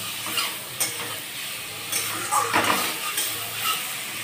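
Potato and drumstick pieces with spices frying and being stirred in a pan, a steady soft sizzle broken by a few scraping stirs, close and fairly quiet with no talking.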